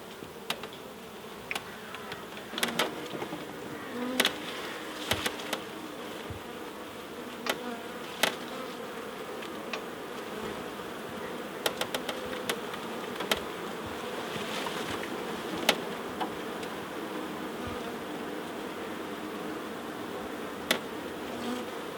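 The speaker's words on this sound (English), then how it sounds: "Cool, there's a lot of bees here." Honeybees buzz around an open beehive in a garden, a dense, continuous hum with individual bees passing close now and then, their wingbeats briefly rising above the steady swarm.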